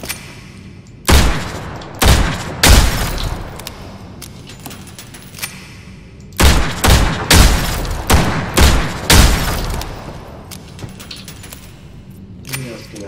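Gunshots ring out in a video game weapon fire test: sharp, loud reports in two tight bursts of several shots each, separated by a few seconds, with short metallic clinks trailing the shots.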